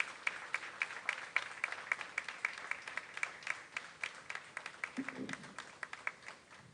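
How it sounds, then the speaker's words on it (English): A small crowd at a junior fair king and queen coronation offers a faint, steady round of clapping for an award winner, individual claps ticking out rhythmically and distantly in a quiet hall. "Let's give him a round of applause."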